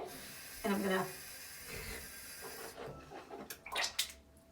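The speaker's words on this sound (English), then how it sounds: "Finally, I'm gonna rinse off my toothbrush. I'm gonna spit" Toothbrush being rinsed under a running tap, a steady hiss of water that cuts off, followed by several short splashy spits and gurgles close by.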